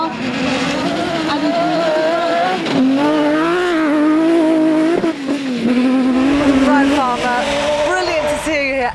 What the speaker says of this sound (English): fast car.